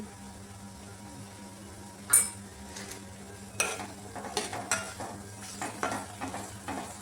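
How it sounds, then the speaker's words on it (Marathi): Masala with turmeric sautés in a pan before mutton is added, a soft steady sizzle broken by occasional sharp scrapes and clinks of a spoon stirring. "तर आता मसाला जरा वेळ परतू देते"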